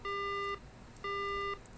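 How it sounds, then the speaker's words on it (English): A phone line going dead in the horror game Death Mark gives two steady electronic beeps, each about half a second long with a half-second gap between them, clean and fairly quiet with no voices. "And the phone goes dead."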